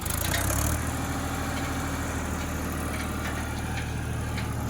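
A tractor engine runs loud and close with a steady low throbbing idle, briefly rising at the start and then holding an even drone, with no talking.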